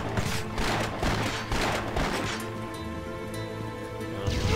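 Rapid bursts of pistol fire in the video game Torchlight 2, dense overlapping shots and booms at the start that thin into a ringing, lingering tail.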